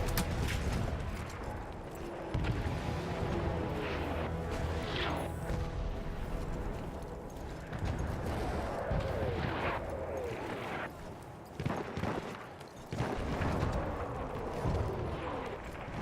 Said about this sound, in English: I don't like artillery.